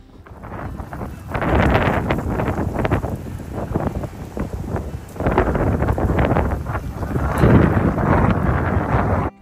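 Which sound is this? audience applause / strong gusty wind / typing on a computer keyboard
strong gusty wind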